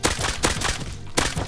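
Rapid nail gun shots in the survival game Rust, a burst of sharp, loud cracks spaced at a quick, uneven rhythm, close and dominant with no talk over them.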